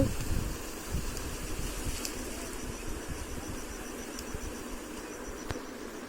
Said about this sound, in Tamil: சூப்பராக காற்று வருது.